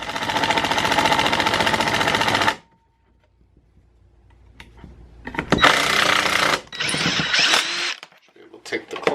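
A power drill drives screws into a reclaimed lumber box: a steady whirring run for a couple of seconds, a pause, then shorter irregular bursts of motor noise up close.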